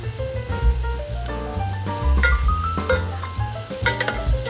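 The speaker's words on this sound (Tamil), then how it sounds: "வெண்ணெய் உருகின உடனே நம்ம சின்னதாக நறுக்கி வச்சுருக்க வெங்காயத்தை இதில் சேர்த்துக்கலாம்." Chopped onions fry in melted butter and oil for a pav bhaji base, with a loud continuous sizzle and a spoon stirring and scraping the pan up close. Music plays underneath.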